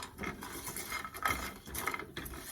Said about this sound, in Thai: เวลาผัดหมูสามชั้น จะได้หอม เครื่องเทศติดกันหมูสามชั้นจะได้ออกมารสชาตินี่หอมอร่อยนะคะ